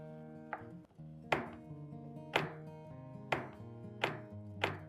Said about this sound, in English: we take the slab of chocolate and cut this